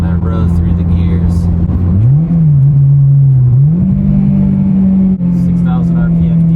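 Honda Civic Si with a new aftermarket exhaust, loud and close, the engine note climbing and dropping as it runs through the gears, with a steady drone between shifts and people talking over it.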